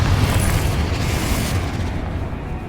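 Confringo explosive spell blast in Hogwarts Legacy: one loud, close, deep rumbling burst that fades slowly as its bright crackle dies away after a second and a half.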